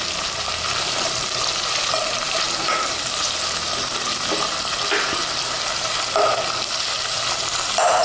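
Whole shahjeera spices frying in hot oil for Hyderabadi bagara rice, giving a steady, fairly loud sizzle with occasional stirring clinks and no talking throughout.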